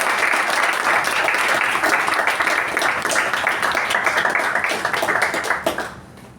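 A Toastmasters club meeting audience gives a special round of applause, steady and fairly loud clapping from a room of people that fades out in the last second.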